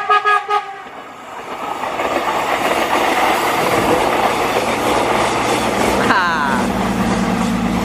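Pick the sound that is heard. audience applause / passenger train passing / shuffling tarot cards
passenger train passing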